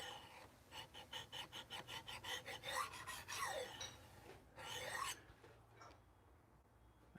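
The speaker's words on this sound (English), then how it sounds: "it's shitty soft steel, so it's it's sharpening pretty easily" A soft steel knife blade is drawn across a sharpening stone in a quick, rhythmic series of raspy strokes, followed by two longer scraping passes, then quiet; the sound is faint and close.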